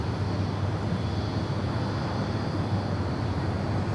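Continuous loud roar of an airliner taking off from runway 16 right at Sydney Airport, a steady broadband rumble with a strong low drone, heard alone without talk.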